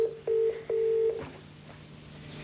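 Telephone keypad tones sound as a number is dialed for an insurance quote: two long beeps, then two shorter ones, fairly clear over a quiet room.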